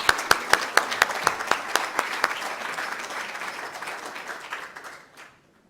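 An audience applauds at a history lecture event, with a burst of dense clapping and a few sharp, prominent claps near the start, then a gradual fade to silence after about five seconds.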